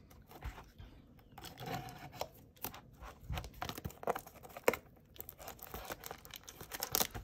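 Topps Heritage 2021 baseball card packs from a blaster box are torn open and the wrappers crinkled, giving irregular close ripping and rustling bursts throughout, with no talk.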